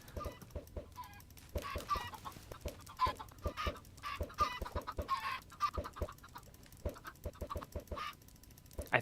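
Chickens in the Minecraft video game cluck repeatedly in short, overlapping bursts at a moderate distance, forming a busy, irregular stream of calls with no talk over them.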